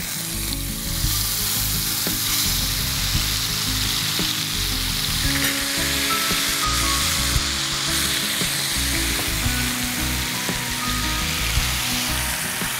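Marinated tengri chicken drumsticks fry in oil with a loud, dense, continuous sizzle and crackle, heard up close, with occasional faint scrapes of stirring and no voices.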